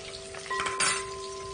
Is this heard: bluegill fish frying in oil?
yes